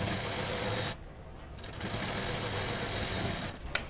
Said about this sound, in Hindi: इस पर भी एक दाब मशीन चला देंगे